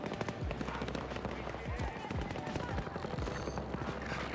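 Chaotic video game combat with rapid machine-gun and rifle fire crackling continuously, sharp repeated shots and blasts overlapping with voices and battlefield noise, no single grenade blast standing out clearly.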